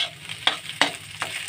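Egg chorchori, a Bengali egg curry, stirred and fried in a pan in a village kitchen: three distinct scraping stirs over a soft, steady sizzle, close and with no talking.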